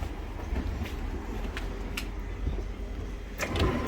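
Continuous low rumble of a tram rolling on rails in Bulgaria, with light metallic clicks and clacks scattered throughout.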